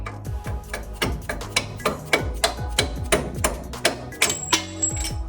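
A hammer strikes a punch to drive out the lower front strut bolt on a 1996-2002 Toyota 4Runner 4WD, a run of loud, evenly spaced metallic blows about a quarter-second apart, close by with no talking.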